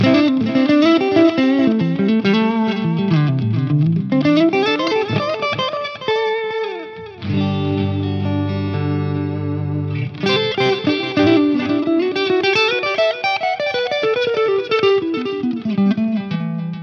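Clean electric guitar on the bridge pickup, played through a Line 6 Helix with a shimmering, slightly driven tone, plays melodic phrases, pausing on a ringing sustained chord midway before the runs resume.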